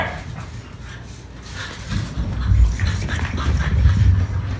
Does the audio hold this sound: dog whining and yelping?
yes